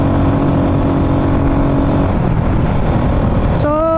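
Cars overtaking on a highway between Iligan City and Marawi City, a steady, loud rush of engine and road noise with a sharper tonal burst at the very end.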